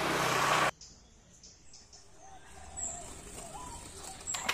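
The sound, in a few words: zebra dove cooing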